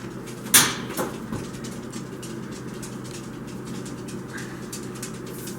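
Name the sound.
oven door as seeds go into oven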